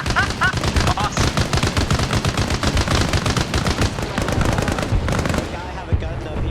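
Rapid bursts of automatic gunfire in the military shooter Arma Reforger during a joint training operation, loud and dense with repeated machine-gun volleys and overlapping shots throughout.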